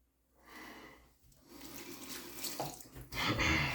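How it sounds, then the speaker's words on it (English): Water from a tap rushes steadily into a sink during a shaving lather routine, a continuous close hiss that swells and grows louder toward the end, with no talking. "We'll add a little water here in just a second."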